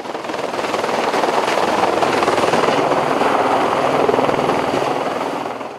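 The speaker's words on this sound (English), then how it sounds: "the helicopter dropped gallons of water over the burning temple" Helicopter hovering over a burning temple in Bhutan while dropping water on the fire, its rotor beating as a loud, steady, close drone that holds for several seconds with no voices.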